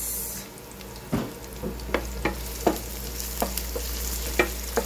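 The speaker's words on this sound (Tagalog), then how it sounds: "Gisahin lang mabuti mga kajuit hanggang sa ito ay maluto" Garlic and sliced onion sizzle in hot oil in a pan for a zucchini and corned beef dish, a steady frying hiss broken by several sharp utensil scrapes and taps as the mix is stirred, with no talking.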